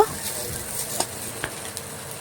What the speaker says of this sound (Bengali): আবারও এক পাশ বেশ কিছুক্ষণ সময় নিয়ে লাল লাল করে ভেজে নেব